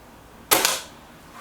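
A single sharp report from a Reximex Zone air rifle cracks out close and loud, then quickly fades into a quiet background, with a faint later click.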